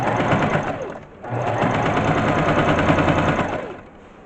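A sewing machine stitches fabric for a plush dog, a fast mechanical whirring chatter in two bursts split by a brief pause near one second, close and steady with no talk.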